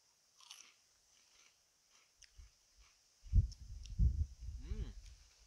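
Nik Naks rib and saucy flavour crisps are bitten and chewed close up, with a few soft crunches followed by a louder run of crunchy chewing; faint voices sit in the background.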